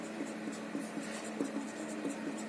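Handwriting on a board or page during a chemistry lesson on Hess's law calculations, with soft, steady scratching strokes in short repeated bursts and no voice.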